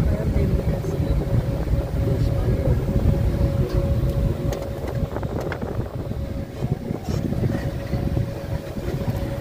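Car driving slowly along a narrow village road in Bangladesh, a steady low engine rumble with road and wind noise throughout, loud and close as if from inside the vehicle, with a faint steady whine above.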